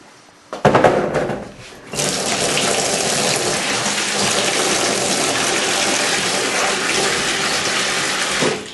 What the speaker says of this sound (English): In the sink, bit of water.